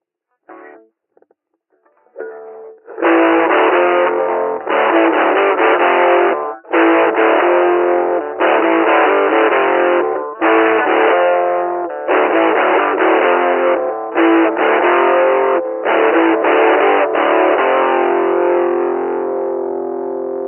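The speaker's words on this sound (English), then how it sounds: "it simulates a very specific and rare distortion pedal" An electric guitar plays through a software simulation of a rare distortion pedal, heavily distorted chords in repeated bursts, loud and fuzzy, with brief gaps between strummed phrases.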